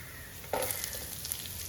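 Thickly sliced onion sautéing in a pan for a Kerala-style stuffed pathiri filling: a soft, steady sizzle with a brief clatter of stirring partway through, close by and fairly quiet.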